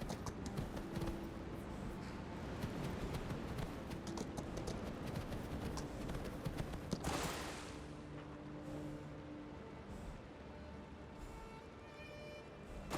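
Horse hooves clip-clopping in Skyrim, rapid close galloping beats over game ambience, easing into slower, quieter steps with tonal game sounds in the second half.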